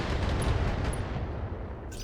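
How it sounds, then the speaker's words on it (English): An ammunition explosion in the BattleTech game gives a heavy, rumbling boom that rolls on for about two seconds, loud and broadband, with faint high metallic pings and no voices. "Ammo explosion, that's a good sign."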